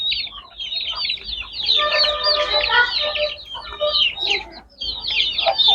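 Chicks cheep and cluck in high, busy peeps, several birds close together calling almost continuously with short breaks; young chickens of Bhimavaram and Salem breeds.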